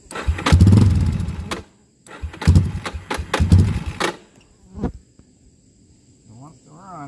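A Yamaha Warrior ATV engine cranks and sputters in several rough bursts, trying to catch and falling quiet between attempts, loud and close, with a person's voice heard over it.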